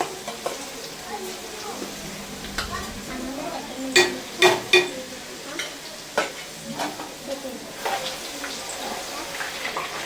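Garlic paste hitting hot oil for mango pickle, a steady low sizzle with stirring scrapes and a few sharp spoon clinks on the pot, close by, with occasional voices talking.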